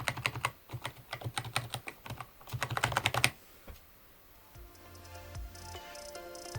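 Keys on a Logitech G213 Prodigy gaming keyboard are typed in a quick run of close, crisp clicky strokes for about three seconds, then give way to quieter background tones.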